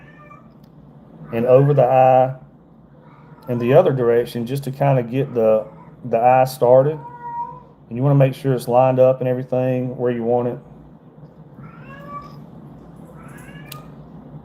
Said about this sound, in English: Sorry about my cat, y'all.